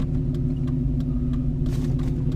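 A Jeep pulls away in 2 high with a tire spinning: a steady, loud, close engine drone with a strong low hum, joined near the end by a brief burst of hissy scrabbling.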